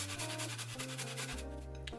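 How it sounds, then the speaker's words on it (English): Fresh ginger is rubbed against a grater in a home kitchen, giving a quick series of close, scratchy rasping strokes. "so I'm just going to grate the ginger"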